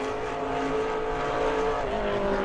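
A Pro Late Model race car laps New Smyrna Speedway during qualifying, its engine holding a loud, steady, sustained roar with a slight pitch shift, close and continuous throughout.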